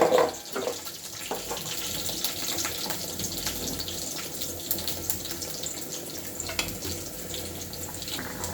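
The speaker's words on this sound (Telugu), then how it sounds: "నీళ్ళు వేసుకొని" Water is poured into a cooking pot in a steady, continuous splashing stream, close by, running for the whole stretch with no talk.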